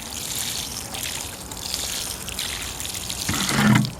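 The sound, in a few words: watering plants in a backyard garden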